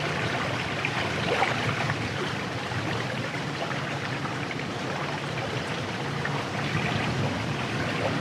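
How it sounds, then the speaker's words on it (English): Waves wash in a steady, continuous roar of water, fairly close and even in level throughout, with no voices over it. "And then the waves, as you hear them"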